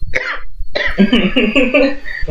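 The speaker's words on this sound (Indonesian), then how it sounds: "maaf, batuk" A single close, loud cough bursts out, followed by a rough throaty rasp that trails off after a short pause.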